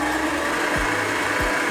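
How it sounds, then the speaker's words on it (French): Electric mixer blending pistachio and white chocolate cake batter with baking powder, a steady whirring hum with two brief dips in pitch. "La levure chimique et je vais mélanger le tout"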